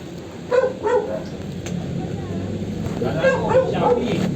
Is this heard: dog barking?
yes